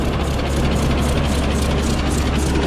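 An old John Deere A tractor that sat for three years turns over steadily with the throttle pulled back, giving a continuous low, rough engine drone, close and loud with no pauses.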